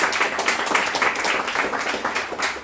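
Audience applause at a July round table meetup greets a presenter walking up to the stage, a steady dense patter of many hands clapping throughout without a break.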